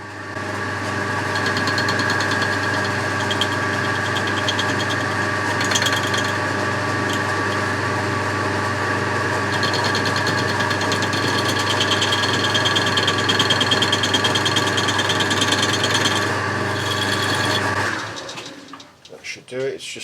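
A metal lathe turns a 30mm steel bar clamped in a 4-jaw chuck, a steady loud motor hum with a whining drone and faint cutting chatter, running continuously before winding down at the end.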